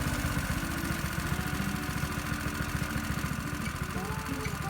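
A 212cc lawnmower engine fitted in a Honda Insight runs at a steady idle with the transmission in neutral, making a continuous close, rumbling drone.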